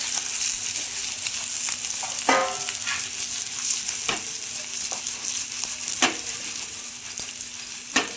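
Paneer 65 masala roasting in a pan, a steady bright sizzle with occasional sharp clinks and scrapes of a spoon stirring against the metal, close and moderately quiet, no talking.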